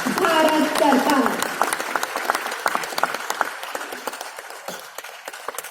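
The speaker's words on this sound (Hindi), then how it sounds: "तालियों की गड़गड़ाहट निरंतर आती रहनी चाहिए।" Applause at the Champions of Change 2021 award ceremony, a broad wash of clapping that is dense and loud at first, with a voice speaking over the opening, then thins out into scattered, fading claps.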